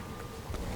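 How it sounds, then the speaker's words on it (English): Wind blows steadily through the Bioshock Infinite game world as a continuous broadband rush, swelling slightly toward the end of the short stretch. "Very windy. This is all very windy."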